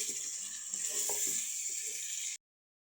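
Liver bhuna with potatoes being stirred in a pan, a steady faint sizzle with soft scraping and clinking of the spoon, no talk, ending abruptly.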